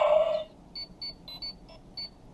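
A Power Rangers Mighty Morphin Ranger key toy gives a short electronic tone, then a run of six evenly spaced high beeps, close and clear with no talking.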